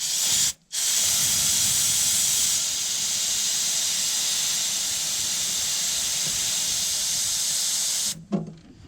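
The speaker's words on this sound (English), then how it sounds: "Let's shoot some more brake clean in there." Aerosol brake cleaner sprays steadily into the rear brakes of a 1967 Chevy II, a loud continuous hiss lasting several seconds, broken by one short pause near the start and ending abruptly.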